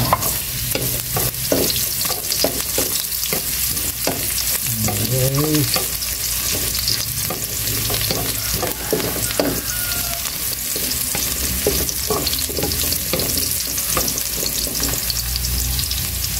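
Ginger and garlic fry and sizzle in hot oil in a pan, with steady close-up stirring and scraping strokes throughout, a continuous crackling hiss under repeated utensil knocks and one brief word spoken.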